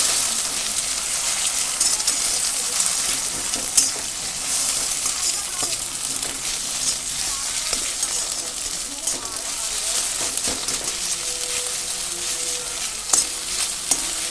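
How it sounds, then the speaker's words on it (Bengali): An egg fries in a little oil in a pan for chowmein, a steady close sizzle with occasional stirring scrapes, while a person talks over it. "দেখাতে তোমাদের এই ডিমটাকে ভালো করে ভেজে নিচ্ছি"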